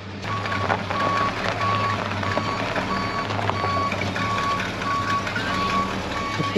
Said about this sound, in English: Oh, she pulling up in the tow truck.